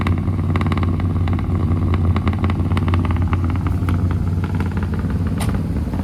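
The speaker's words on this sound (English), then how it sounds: "It needs to be idled down a little bit. It's running good." A 1968 Dodge Polara V8 with a four-barrel carburetor and intake runs at a steady idle, close and loud, its low rumble continuous with no talk over it.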